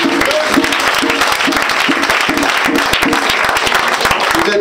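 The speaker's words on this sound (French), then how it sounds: "Est-ce qu'on peut acclamer Jésus?" A church congregation claps together in a steady rhythmic beat to acclaim Jesus, loud and close, the many hands blending into a single pulsing applause with a few voices underneath.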